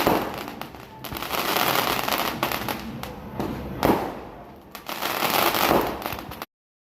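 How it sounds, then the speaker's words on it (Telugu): Rapid bursts of firecrackers crackle and pop loudly in dense clusters during a Ganesh procession with an idol on a tractor, sharper blasts standing out, continuing almost without pause. "ముందు బాంబులు అవి వినిపించాను చూసారా సౌండ్స్"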